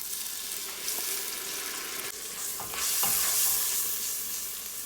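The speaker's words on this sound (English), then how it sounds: "I'm gonna cook this until all the spices and the aroma is nice and rich in the kitchen." Curry paste for a Guyanese duck curry sizzles and fries in a pot, with steady hissing and a few soft stirring scrapes, growing slightly louder near the end, no voices.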